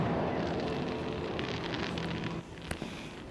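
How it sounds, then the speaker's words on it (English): Fireworks for the Victoria Day long weekend at Canada's Wonderland sound as a distant, rumbling boom-filled wash with a few sharper cracks near the end, softened by wind noise. "Fireworks lighting up the sky just moments ago for the long weekend."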